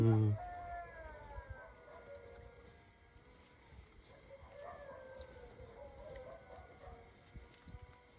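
Several dogs howl and bark in long, drawn-out wails, somewhat distant, overlapping with faint voices in the background.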